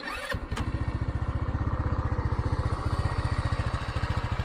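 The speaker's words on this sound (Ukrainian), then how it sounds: "Отак має заводитися дерчик. І він може так заводитися китайський скутер." A Chinese Forte Tiger 150 scooter engine (157QMJ) kicks over after a brief electric-start crank, then settles into a steady, rapid putter at idle, close and fairly loud.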